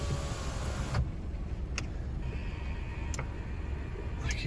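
Electric windows on a 2011 Vauxhall Corsa 1.2 Excite running, a steady low motor hum inside the car with a few faint clicks as the glass moves, with no talking.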